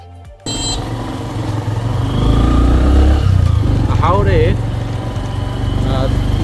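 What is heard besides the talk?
motorcycle riding on road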